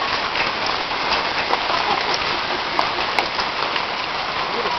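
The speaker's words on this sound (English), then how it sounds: "Oh, here comes the hail again." Hail falling steadily around a trailer, a dense, even patter of countless small impacts with a few sharper ticks standing out, continuous for the whole stretch and without voices.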